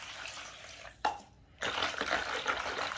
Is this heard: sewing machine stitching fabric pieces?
no